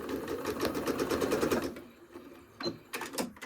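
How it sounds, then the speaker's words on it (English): A sewing machine runs in a fast, steady stitching rattle for nearly two seconds while sewing fabric strips for a scrap-fabric bowl cover, then gives a few short, quieter bursts; no talking. "I'm going to sew right down to this corner, just like this."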